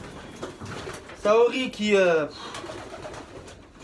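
Pet pigeons, a female among them, coo in soft rounded bursts in the middle, sitting close and clear between people talking in French before and after.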